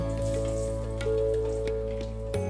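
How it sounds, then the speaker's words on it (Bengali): Bori, small lentil dumplings, frying in hot mustard oil in a kadai, a continuous crackling sizzle with scattered pops over a low steady hum. "এইবার তেল গরম হয়ে গেলেই বড়িগুলোকে প্রথমে ভেজে নেব"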